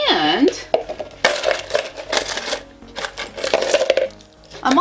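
Canadian $2 coins clatter loudly into a container in several metallic bursts, jingling and settling against each other up close.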